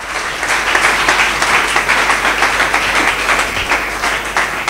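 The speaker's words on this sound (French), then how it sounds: "Est-ce qu'on peut acclamer pour la parole de Dieu?" A church congregation at a French-language sermon applauds steadily and loudly, a dense wash of many hands clapping together that continues without a break.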